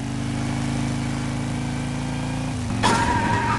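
A cartoon car engine hums steadily as it drives along a track in the PJ Masks Hero Academy game, a droning mid-pitched motor tone that shifts near the end as a bright chime-like effect sounds over it.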